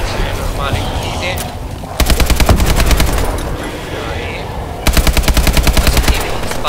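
Rapid bursts of automatic fire from a K12 machine gun in the Exo Zombies game mode, two loud sustained volleys separated by a gap filled with lower game noise and background sounds.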